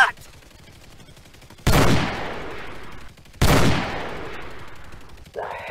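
Two heavy rifle blasts ring out in a staged combat scene, each a loud, sharp crack that trails into a long rumbling decay, spaced about two seconds apart, with another shot starting at the end.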